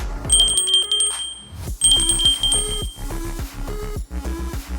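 A bright, repeated chiming notification jingle with tinkling bell tones over a short tonal backing, several quick phrases in succession, clean and close with no talking.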